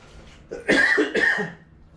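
A person coughs in two harsh bursts, close and fairly loud, with a faint lead-in breath and no talking.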